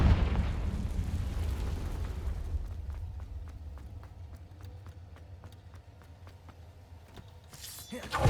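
A Confringo blasting spell goes off in Hogwarts Legacy: a loud, rumbling burst opens the moment, fading into scattered crackles and ticking impacts, with a sharp bright flare near the end.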